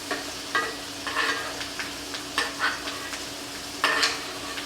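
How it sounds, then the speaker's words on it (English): Steak sizzles in a pan as butter and sauce are spooned over it again and again, giving a steady fry broken by repeated bursts of spattering and scraping, close and fairly loud with no talking. "you're just going to baste your steak with those delicious ingredients"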